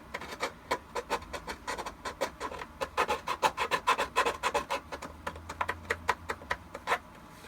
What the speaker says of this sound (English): So I go in here with the file. And just start filing it down until I get that teeth shape that I want.